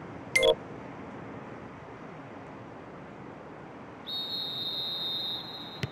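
Referee's half-time whistle in the football video game Winning Eleven 2014, Liverpool versus Leverkusen: a short sharp blast near the start, then a long sustained whistle toward the end over a steady low crowd hiss.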